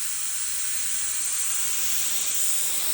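Airbrush spraying paint on small detail parts, fed by a large compressor, a steady close airy hiss, loud and unbroken from start to finish.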